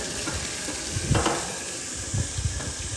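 Lamb slow-cooking on a BBQ grill at around 200 degrees, giving a steady, dense sizzle with occasional louder hissing bursts of escaping gas, continuous and fairly close with no talking.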